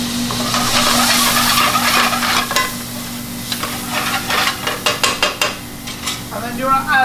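Tomato puree frying with garlic ginger paste and caramelised onions for chicken tikka masala, a loud close sizzle with repeated rhythmic scraping stirs of a utensil against the pan, a low steady hum beneath, no speech.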